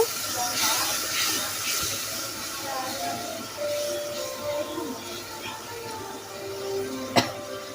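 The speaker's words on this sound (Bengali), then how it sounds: "এখন আমি একটুখানি পানি দিয়ে দিচ্ছি মশলাটা আরও ভালোভাবে কষিয়ে নেওয়ার জন্য" Water poured into frying spices in a pan for a jackfruit seed and egg dish sets off a soft, steamy sizzle, fairly quiet and continuous beneath a person talking, with a sharp click near the end.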